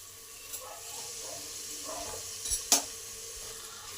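Chopped tomato lands in a pan of frying grated ginger, giving a quiet, steady sizzle with a few light scrapes and a sharper clatter near the end, heard close up and fairly faint.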